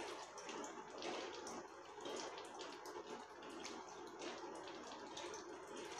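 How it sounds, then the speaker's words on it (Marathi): Running water pours over shredded cabbage held in a colander, a steady splashing wash with scattered drips, close and continuous for the whole stretch with no talk. "मी एका चाळणीमध्ये तो घेतलेला आहे बघा, मी पाणी टाकून स्वच्छ धुवून घेणार आहोत"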